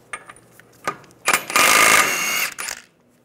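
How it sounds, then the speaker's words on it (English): A 30mm 12-point socket loosens the front axle nut on a 1998-2010 Volkswagen Beetle, heard close as a few metallic clicks and then a loud, buzzing burst of about a second, apparently an impact tool, ending in a brief rattle. "We're going to take the axle nut off. Use a 30mm socket. It needs to be a 12-point."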